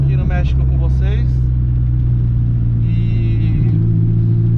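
A turbocharged Fiat 147 drives along on a rainy day, its engine a loud steady low rumble throughout, with someone talking over it at first.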